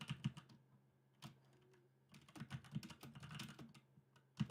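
Fast, uneven keystrokes clatter on a computer keyboard, faint and close, with a few sharper thumps from a troublesome spacebar among the clicks.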